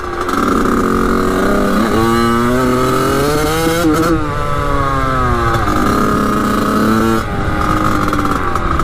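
A Kawasaki KX 80 dirt bike engine runs loud and close at high revs, its pitch rising and falling through repeated throttle blips, with brief stutters and dips in the steady buzzing drone.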